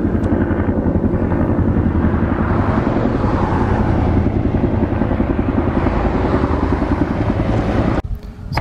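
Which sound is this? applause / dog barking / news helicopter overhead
news helicopter overhead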